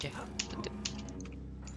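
Fast keyboard typing clatters in the keyboard room of the horror video game Outlast, with short, uneven key taps beneath a low background hum.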